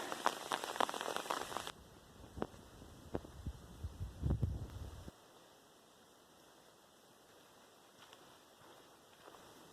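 Light rain in a forest in North Georgia, soft scattered drops tapping near and around for the first half, with a few louder single drops, then fading to a faint quiet hiss.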